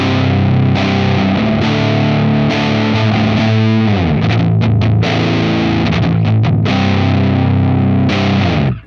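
Low-tuned electric guitar runs through a Farm Pedals Spirit Animal pedal at low gain, giving a gritty, lightly saturated tone across sustained chords and choppy muted riffs, loud and steady with no voices.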